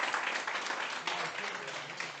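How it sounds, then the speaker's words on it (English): A burst of crowd applause, dense and continuous clapping from many hands, filling the whole moment. "Deserves a round of applause."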